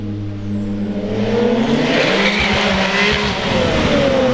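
A Porsche 718 GT4 with a naturally aspirated 4-litre flat-six and Akrapovic exhaust roars loudly up close, the engine note rising and sweeping through revs with rough, harsh exhaust texture.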